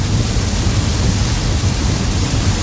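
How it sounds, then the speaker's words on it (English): Heavy rain hammering a car during a southern storm, heard from inside the vehicle as a dense, loud, unbroken hiss with a deep rumbling undertone, no voices. "That's how loud the rain is."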